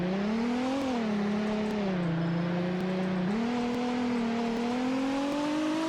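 A Nissan R35 GT-R engine in the Roblox game Greenville hums steadily at low revs, pitch dipping and rising as it shifts, smooth and close with no talking.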